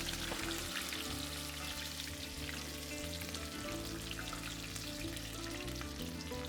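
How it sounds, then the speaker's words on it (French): Tomato peels dropped into heated oil fry with a soft, steady crackling sizzle that stays faint and continuous throughout, with no talking. "je vais venir plonger dans une huile que j'ai chauffée les épluchures de tomates"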